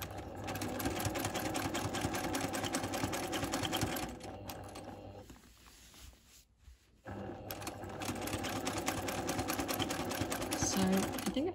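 A sewing machine free-motion quilting a grid design runs in a steady, loud, rapid needle rhythm, pauses for a few seconds midway, then resumes just as steadily, while a person talks over it.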